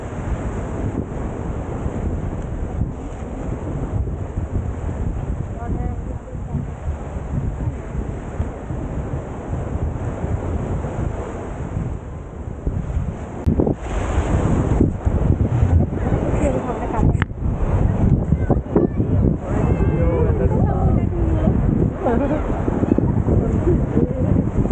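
Sea waves and gusting wind at Cherai Beach roar continuously, with surf washing and microphone buffeting throughout, growing louder in the second half; people talk faintly over the steady wash.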